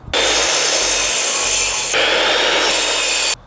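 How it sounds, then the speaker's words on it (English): Close, loud, steady hand-sawing through the end of a wooden support board for a wall-mounted hat and coat rack, a continuous rasping stroke sound with a brief shift midway and then an abrupt stop. "First, I'll trim the end so it's super precise."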